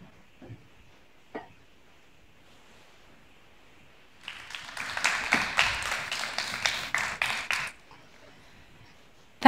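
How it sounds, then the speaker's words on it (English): An audience claps for a few seconds at a talk in Think Corner, with dense, moderately loud applause after a stretch of near-silence, then ending abruptly. "I hope you could hear at least a little bit of clapping from the audience here at Think Corner"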